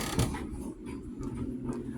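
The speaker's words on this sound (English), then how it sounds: "As we open the door," A hotel room door at a Hampton Inn in Billerica, Massachusetts opens with a short mechanical click and soft creaking of the latch and hinges, close and moderately quiet.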